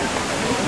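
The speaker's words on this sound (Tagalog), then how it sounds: "Ayun, yung waterfalls ang laki." A large waterfall near Mount Fuji, about 27 metres high, roars as a steady, dense wash of falling water, loud and continuous with no breaks.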